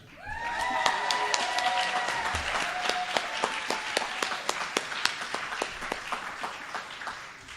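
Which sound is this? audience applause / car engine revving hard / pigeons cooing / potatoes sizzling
audience applause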